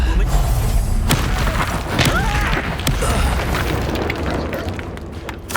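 Incendio fire spell in Hogwarts Legacy going off as a loud booming burst with crackling fire and thuds, followed by further impacts and rumbling against game sounds and faint voices.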